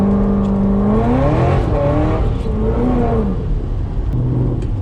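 Supercharged Corvette driving at night in the rain, its engine heard from inside with a smooth whining drone rising and falling as it accelerates and shifts through gears, loud and continuous.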